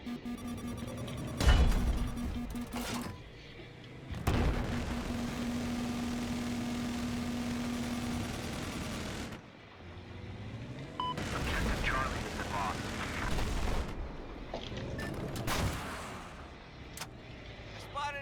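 Missile launches from a mobile anti-air vehicle in Battlefield 4, a few sharp whooshing bursts separated by stretches of engine drone, with someone talking over parts of it.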